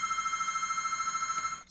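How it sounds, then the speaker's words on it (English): A telephone rings nearby with a steady, rapidly warbling electronic tone that holds for over a second and a half, then cuts off. "Sorry for the phone."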